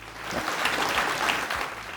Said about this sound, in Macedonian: браво, аплауз, дечки